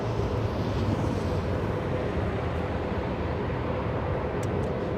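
A JetBlue Boeing 737's CFM56 engines power up to full thrust at LAX, a steady broadband roar heard from a distance with no voices.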